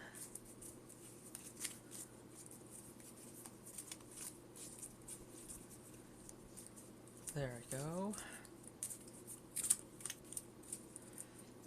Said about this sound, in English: I'm going to shuffle by cutting again